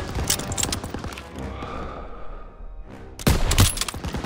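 Bursts of rapid machine gun fire in the game Call of Duty: WWII crackle loudly, fade into a lower rumble of distant fire, then a sharp heavy volley erupts again near the end.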